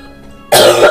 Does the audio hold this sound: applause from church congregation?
no